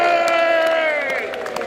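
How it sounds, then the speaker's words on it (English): A large audience at an evening rally cheers loudly and continuously, with raised voices and whoops blending into one dense, close roar. "let's have a big cheer"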